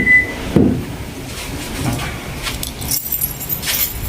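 An Isuzu pickup tailgate lock (2022) being unlocked and locked, giving short sharp mechanical clacks and rattles, close by, separated by a quieter stretch.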